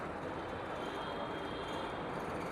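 Steady low rumble of a train or rail machinery inside an elevated Dhaka Metro Rail station, a continuous broadband hum with no clear voices.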